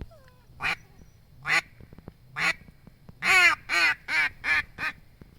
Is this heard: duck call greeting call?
yes